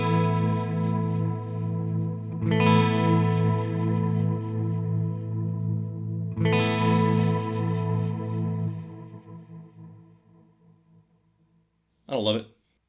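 Electric guitar chords played through the Shake effect of a Mooer A7 Ambiance micro pedal with the chaos control turned up, two long wavering chords ringing out and decaying, then a short burst near the end.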